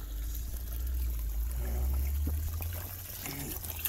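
Water trickles steadily from a broken poly pipe irrigation line outdoors, a continuous soft flow over a low, constant rumble.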